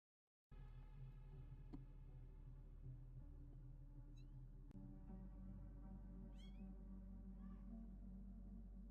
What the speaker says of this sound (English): Cats in the back tweaking.